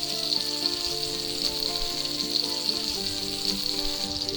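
Butter and bacon fat sizzling in a hot pan with rosemary and thyme, cooked for a ribeye steak with onions and mushrooms. A steady, even crackle holds close and constant throughout, with a faint hum underneath.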